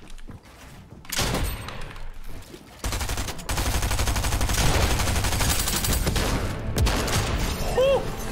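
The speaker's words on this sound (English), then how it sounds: "He had an auto shotgun." Rapid auto shotgun gunfire in Fortnite, loud close bursts of blasts that run almost continuously for several seconds amid other game noise, with no talking.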